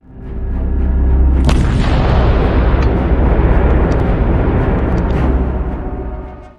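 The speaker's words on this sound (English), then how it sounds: "an improvised unmanned aerial rifle, previously covered in a Ukrainian blog, fires a series of rounds into the forest" An improvised rifle mounted on an unmanned aerial drone fires a series of rounds into a forest during combat, heard as loud booming reports with a sharp crack early on, rolling into a sustained, reverberant roar.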